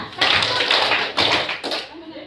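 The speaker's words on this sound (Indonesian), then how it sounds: "Kita tepuk ceria bersama dengan hitungan 1, 2, 3" A classroom of students claps a cheerful rhythmic pattern in counted groups of three, with sharp bursts of clapping and children's voices mixed in throughout.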